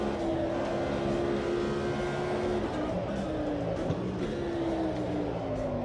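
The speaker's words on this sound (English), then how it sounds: "Oh, this Lamborghini is so nice. Shall we have a listen to it down the long straight" Lamborghini race car engine in the sim racing game Automobilista 2, a steady loud droning howl with sustained tonal harmonics that shift pitch as it runs down a long straight, continuous throughout.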